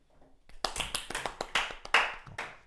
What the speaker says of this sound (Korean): 지환, 우리 지환에서 박수